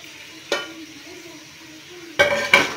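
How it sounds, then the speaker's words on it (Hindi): Onions, tomatoes, green chillies, garlic and spices sautéing in a pan for Punjabi kadhi pakora: a soft steady sizzle broken by a spoon scraping and clinking against the pan three times, near and fairly quiet. "इसको हम थोड़ा सा भून लेंगे।"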